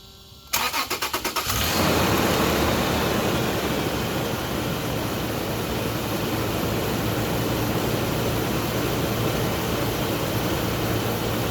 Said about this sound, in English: Now I'm going to turn the engine on.